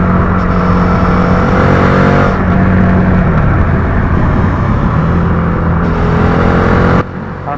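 A Suzuki SV650 motorcycle engine held at a loud, steady high rev, a dense continuous roar with a brief pitch shift midway, then dropping away sharply just before the end.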